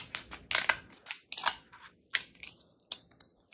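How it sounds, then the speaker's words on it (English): Cooking scissors snip through jumbo king crab shell in a series of sharp, close crunching cuts and cracks, with quiet pauses between them. "These are some cooking scissors, chicken scissors"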